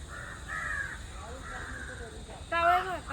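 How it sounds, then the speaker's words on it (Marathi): Crows cawing outdoors near trees at a quiet temple, a few harsh repeated calls at moderate distance, with a louder burst toward the end over light ambient noise. "कावळे बघ, कावळे."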